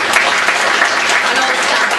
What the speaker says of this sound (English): Give a huge round of applause for Colin and Lorraine